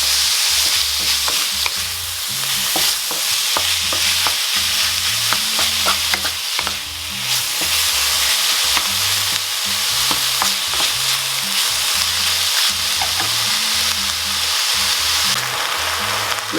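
Ground beef mince and onion fry steadily in a pan, a continuous loud sizzle broken by scraping stirs and occasional spatula knocks throughout, with no voices.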